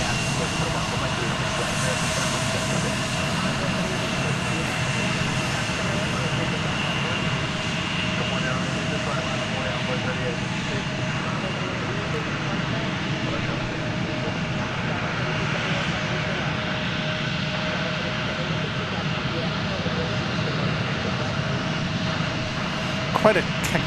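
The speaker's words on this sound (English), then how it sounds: "Quite a cacophony of jet sounds going on in front of us." A Boeing 787-9 Dreamliner jet takes off for Phoenix at Dallas Fort Worth airport, its steady broadband roar filling the air at a distance with no break throughout.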